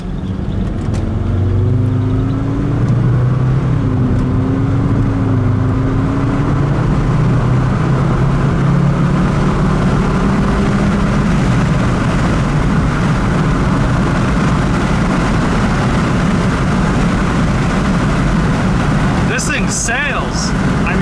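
A heavy Volvo V70R wagon pulls hard on the road, its engine note climbing through the gears under steady wind and road roar heard from inside the cabin. A voice talks over the engine.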